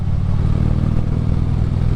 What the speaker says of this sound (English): Listen to that mother purr. I'll tell you what, these Reinhardt Racing exhaust pipes on this bike, they are the cat's meow.